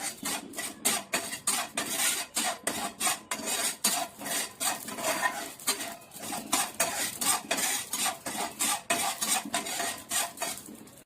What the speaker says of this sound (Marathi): आता खसखस आपण अशी बिना तेलाची भाजून घेऊया